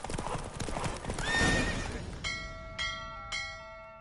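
A horse galloping hard in a race in The Witcher 3, quick thudding hoofbeats with a whinny, then bright bell chimes ringing out as the run ends.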